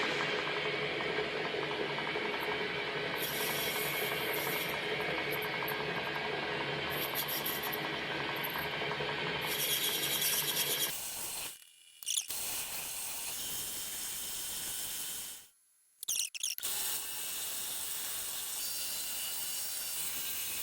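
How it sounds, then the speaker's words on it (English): A small metal lathe takes a fine taper cut on a carburetor needle, giving a steady high whirring hiss with a short cutoff partway through before the machining noise resumes, close and continuous. "Going to take a test cut to see if we can get a fine point taper on this piece."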